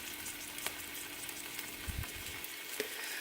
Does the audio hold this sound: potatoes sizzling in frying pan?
yes